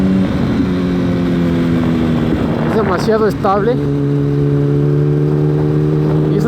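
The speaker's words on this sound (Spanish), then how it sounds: "quiero que vean lo hermoso que es esta moto en las curvas" A Yamaha R1 sport motorcycle rides through curves with a steady engine drone and brief pitch swoops as it leans and changes throttle, with someone talking over the engine throughout.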